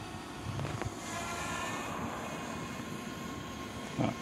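A Walkera T210 drone flies nearby with a steady whirring drone and broadband rushing, wind buffeting the microphone throughout, with brief thumps near the start and end and no talk.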